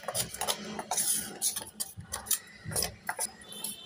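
A spoon stirring a spoonful of Eno fruit salt into risen mung dal batter in a bowl, giving a quick run of light scraping and clinking strokes close by, with no one talking.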